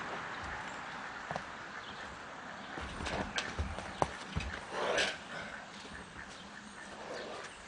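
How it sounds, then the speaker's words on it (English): Horses walk past, their hooves clip-clopping in a loose irregular rhythm, faint to moderate and a little distant over outdoor background noise, with a few louder knocks midway. "All right, we'll let the horses through next."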